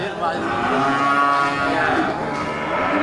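A male Aceh bull at a cattle market gives one long, drawn-out moo lasting about three seconds, loud and close, with a steady tonal bellow.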